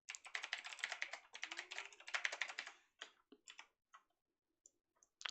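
Code being typed on a computer keyboard, a rapid run of close, crisp key clicks in dense bursts for about three seconds, then a few scattered taps and pauses.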